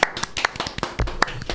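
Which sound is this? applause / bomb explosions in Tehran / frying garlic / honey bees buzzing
applause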